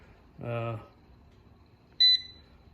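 An air fryer gives a short electronic beep pair as its power button and fish setting are pressed, clear and close, following a brief stretch of a voice speaking nearby.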